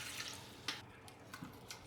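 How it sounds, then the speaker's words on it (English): Water poured into an Instant Pot, a faint short trickling splash that comes and goes over about two seconds, with no talking. "We're going to pour in 1 cup of water."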